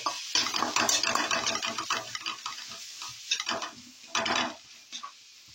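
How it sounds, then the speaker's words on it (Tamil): Chilli idli mixture being sautéed in a pan with sambar powder: brisk scraping stir strokes and a soft sizzle come in bursts, loud at first and then fading into sparser, quieter strokes. "சாம்பார் தூள் கொஞ்சம் போட்டுட்டு இதை நல்லா வதக்கிட்டு"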